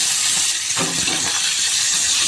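Goat liver sizzles and fries in hot oil with chilli and curry leaves, a steady broadband hiss with stirring scrapes partway through, close and continuous with no talking.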